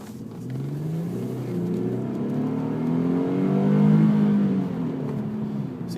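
A 2009 Infiniti G37x accelerates on the road, its engine note rising and swelling over six seconds as it pulls hard, heard clearly from inside the car with no talk.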